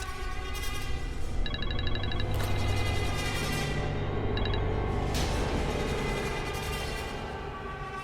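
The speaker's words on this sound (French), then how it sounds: "Mais c'est quoi cette sonnerie?" A phone ringtone chirps in short repeated bursts, rising and falling over a steady background hum.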